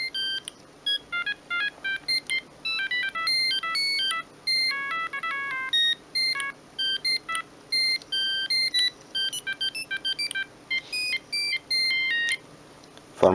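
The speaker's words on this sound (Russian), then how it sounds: "В формате IMI такие вот коротенькие мелодии" Short monophonic IMY-format ringtone melodies from a Siemens S65 mobile phone, rapid beeping tones in quick runs with brief pauses between phrases, clear and close with no talking.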